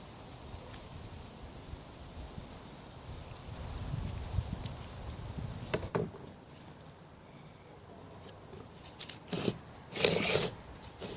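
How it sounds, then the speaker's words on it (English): Scissors trim excess mesh from the back of an Opus Pixellatum mosaic. Faint rustling handling noise builds to a few sharp, close snips near the end. "we're going to take the excess mesh here. We take it off with our scissors"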